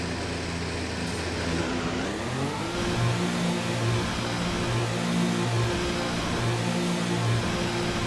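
An F1 car engine in F1 2019 revs as the car pulls out of the garage, its rising, stepped mid-pitched whine climbing through upshifts over a steady hum, loud and continuous without talk.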